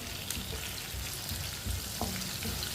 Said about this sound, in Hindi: आधी चमची साबुत जीरा, आधी चमची साबुत धनिया, 4 सब्ज मिर्च बारीक कटी हुई। 1 मिनट के लिए भून लेंगे सब चीज़ों को।